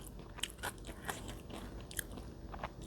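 Soft crunching bites into boiled vegetable fern, several crisp snaps spaced irregularly, close and faint with no talking.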